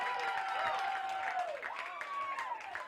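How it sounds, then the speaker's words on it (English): Light clapping and scattered cheers from a small crowd at a Minnesota amateur baseball state tournament game after a called third strike, fairly distant and quiet, with a steady tone running underneath. "The Dumont crowd fired up."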